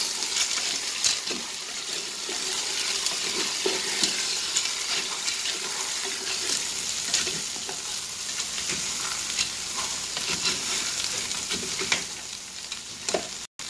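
A feijoada seasoning mixture being stirred in a pan, giving continuous wet scraping and sizzling with scattered clinks, close and fairly loud and steady for the whole stretch, with no talking.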